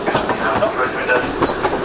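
A narrow gauge steam train runs on rails at the Kirklees Light Railway steam gala, giving a continuous rumble with rhythmic rail clatter and hiss close by, and a voice speaks over it.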